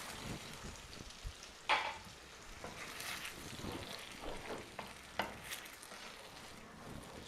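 Carrots and peppers are stirred in a pan with a little added water, giving a soft sizzle with scattered scrapes and clinks of the utensil against the pan and one sharper knock.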